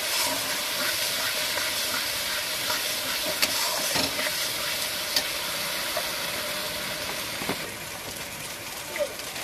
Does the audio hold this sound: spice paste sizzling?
yes